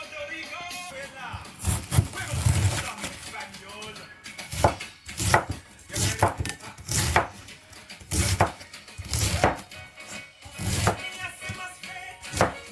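A knife chops cabbage on a cutting board while prepping a corned beef cabbage stew, sharp close thuds coming in quick irregular bursts over quiet background music.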